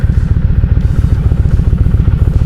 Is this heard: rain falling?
no